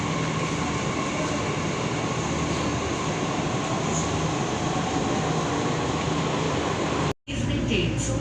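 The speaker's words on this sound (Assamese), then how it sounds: "এইখনে মেট্ৰ' হয়" A Delhi metro train runs in a steady loud rumble with a constant hum, heard from inside the carriage, broken by a brief dropout near the end.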